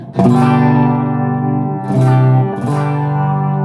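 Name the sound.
electric guitar through amp with reverb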